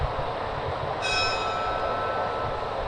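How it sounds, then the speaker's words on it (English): Bell on a model train layout ringing steadily as a high metallic tone that begins about a second in and carries on over a constant background rumble of running trains. "somebody kill that bell back there"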